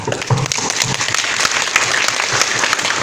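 A classroom group claps their hands to imitate rain building toward a thunderstorm, producing a dense, continuous patter of many hands, loud and close, with no voices.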